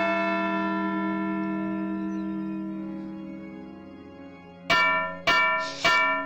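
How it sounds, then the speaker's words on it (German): In the point-and-click adventure game Edna bricht aus, a church bell is struck three times near the end, loud and ringing, over a long fading harmonic tone from earlier strikes. "wie Edna hier in der letzten Szene aus lauter Verzweiflung auch noch die Kirchenglocke schlagen muss"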